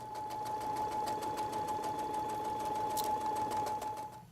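A sewing machine runs steadily, stitching a skirt onto its waistband for a cocktail costume, with a fast, even motor whir and rapid needle clatter throughout, close and continuous.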